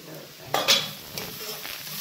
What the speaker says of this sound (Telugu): ఒకసారి మళ్ళీ కలుపుకొని చూద్దాం